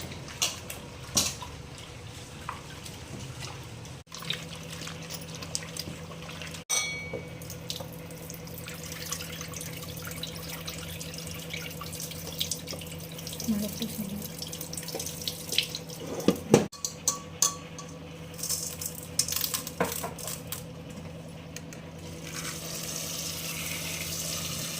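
Bitter gourd is washed under a running kitchen tap, with a continuous stream of water splashing into a sink, punctuated by sloshing, handling knocks and occasional drips throughout.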